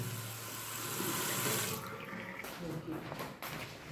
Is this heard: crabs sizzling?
no